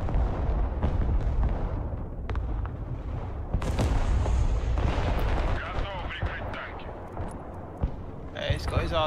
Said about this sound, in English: he's got his artillery up now as well